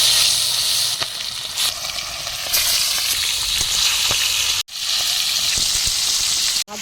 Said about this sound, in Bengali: হলুদ নুন মাখানো মাছটা ভেজে নিচ্ছি।